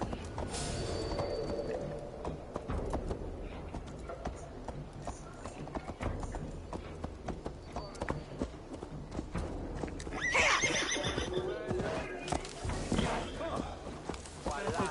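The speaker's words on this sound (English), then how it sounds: "Stop that horse!" A horse in Assassin's Creed Valhalla on PS5, with hooves clip-clopping and a brief whinny amid game music and ambience, while a voice speaks over the action.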